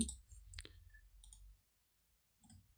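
Computer mouse clicks during a Power BI software session, a quick burst of sharp clicks near the start followed by a few lighter taps, close and isolated with no talking.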